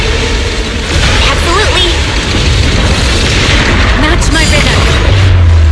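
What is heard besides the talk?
explosions in video game Zenless Zone Zero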